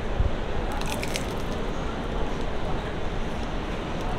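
Someone bites into a crunchy, flaky veal-filled pastry, giving a crisp crunch near the start followed by soft squishy chewing over steady background noise.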